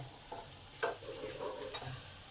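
Potato and pumpkin pieces fry together in a pan for a stuffed-paratha filling, giving a soft, continuous sizzle broken by a few scraping stirs of the spoon, quiet and close.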